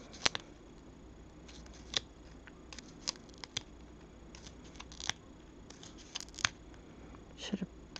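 Scissors snip paper around a snowman hat in quarter-inch steps, small crisp clicks spaced irregularly over a quiet background, close and fairly soft.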